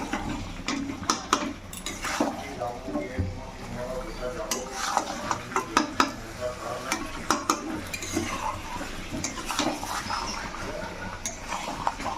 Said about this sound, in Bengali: এরপরে ভাজা আলুগুলো দিয়ে আর একটু কষে নেব